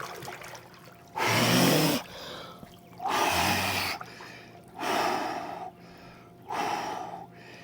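Deep breathing into a 45-degree cold plunge: four long, loud breaths with sharp gasping intakes, evenly spaced and close up, quiet water faintly between them.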